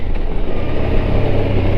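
Suzuki V-Strom motorcycle sliding sideways on gravel, a continuous rough engine drone mixed with crunching, rushing noise up close.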